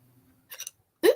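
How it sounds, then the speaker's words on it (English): A single abrupt hiccup from a person, close and fairly loud, following a brief soft vocal sound, with a quiet hum underneath at the start. "Hiccup."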